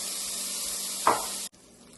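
Tomato goes into a pan of cooked onion for palak paneer, setting off a loud, steady sizzle with a brief burst of hiss as it lands, before the sound drops abruptly to a quieter frying crackle.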